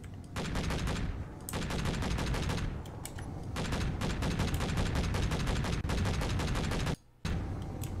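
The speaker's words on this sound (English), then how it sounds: "I'm just testing out the autocannons on this thing" Autocannons firing in the Space Engineers video game, long rapid bursts of repeated loud shots sustained for most of the stretch, with a brief silent gap near the end before firing resumes.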